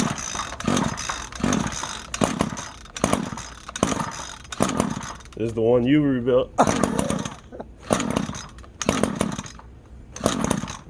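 Repaired two-stroke lawn edger engine cranked on cold start, its rhythmic pull-start bursts and brief sputtering catching repeatedly in short rasping surges. People talk briefly in between the pulls.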